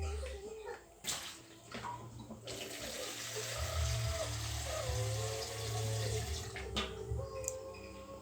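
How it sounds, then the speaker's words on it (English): Fresh water poured into a cooking pot for a Sri Lankan village fish curry, a continuous splashing stream that starts after a few faint clinks and runs several seconds before tapering. "Add some fresh water."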